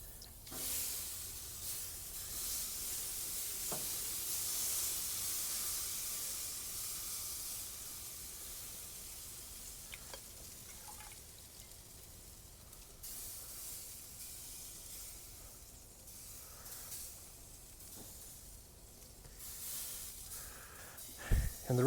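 Whiskey root beer glaze sizzles on a ham on the grill, a strong steady hiss that swells early and then settles into a quieter, crackling fizz with occasional small pops.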